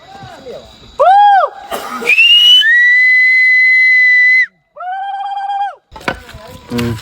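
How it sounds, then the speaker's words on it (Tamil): Loud, shrill whistle blown in a series of bursts, some short and one long steady blast, during a night hike up Velliangiri hill, with people talking and shouting between the blasts. "போடு விசில் போடு"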